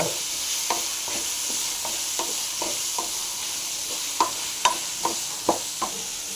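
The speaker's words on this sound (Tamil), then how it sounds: "பச்சை மிளகாய் வச்சு நல்லா ஃப்ரை பண்ணிக்கலாம்" Pirandai (adamant creeper) frying with green chillies in a pan for thuvaiyal, a soft continuous sizzle with sharp intermittent taps and scrapes of a spatula against the pan.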